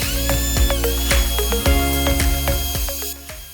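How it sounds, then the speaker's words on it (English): Drill working on DIY table saw trunnion pieces to bore center holes, a close, steady motor drone punctuated by rapid repeated sharp clicks and knocks throughout. "After drilling the center holes"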